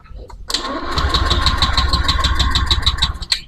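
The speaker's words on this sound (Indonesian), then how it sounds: "Saya akan coba starter" A Honda Beat ESP scooter that won't start, its starter motor cranking the engine in a loud, fast, steady whir with rhythmic pulses for about three seconds, close up.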